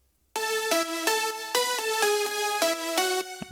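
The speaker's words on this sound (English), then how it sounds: "So without the reverb the leads sound like this." Bright progressive house synth leads from an FL Studio project, played dry with no reverb: a sustained, harmonically rich chord melody that steps through several changes in a steady rhythm. The sound is close and clear, with no talk over it.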